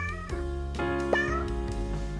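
Cartoon cats meow in the PC clicker game 100 Capitalist Cats, a few short tonal mews over a steady musical background, one brighter meow standing out near the middle.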